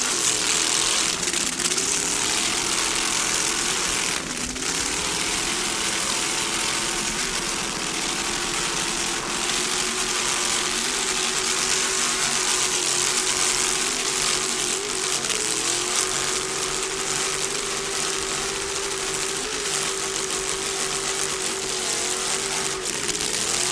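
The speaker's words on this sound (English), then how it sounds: "Just listen to those Pro 1 racing inboards." Pro 1 racing inboard boat engines roar steadily at a World Championships powerboat race in Key West, a continuous loud drone with rising and falling pitch as throttle shifts, no talk over it.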